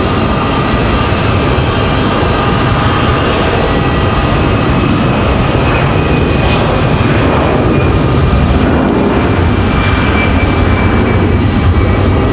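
An American Airlines A319 or A320 jet takes off from runway 5 right at Raleigh-Durham International, producing a loud, continuous broadband engine roar and rumble that holds steady throughout without pause.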